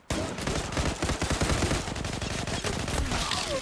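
Rapid automatic gunfire in the online shooter game Zula, dense bursts of shots rattling close and loud across the whole stretch with barely a pause.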